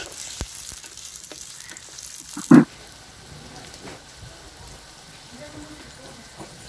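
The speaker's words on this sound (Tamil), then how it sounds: "ஆனியன் பச்சை மிளகாய் ரெண்டுமே நல்லா வதங்கணும்." Onion and green chillies frying in a pan for chicken parotta, a soft sizzling hiss under faint stirring taps, with one sharp knock partway through and the frying quieter afterward.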